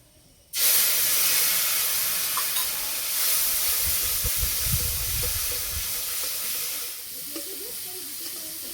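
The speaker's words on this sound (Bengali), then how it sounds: "গোটা জিরে, কোচানো আদা, অল্প একটু হিং, গুলে রাখা মশলাটা দিয়ে দেব।" Whole cumin, crushed ginger, a pinch of asafoetida and a mixed spice paste drop into hot mustard oil in a kadai, bursting into a loud, sustained hiss and sizzle that stays strong, with stirring underneath.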